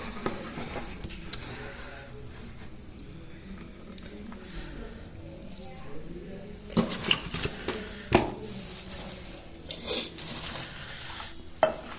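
Lao rice-noodle papaya salad (khao pun) is pounded and mixed in a mortar, with irregular knocks, scraping and wet stirring. The sounds are close and grow louder and busier toward the end, with no voices.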